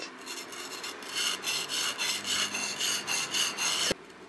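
Rhythmic gritty scraping strokes of a sashimi knife blade rubbed back and forth on a whetstone, close and steady, ending with a small clack.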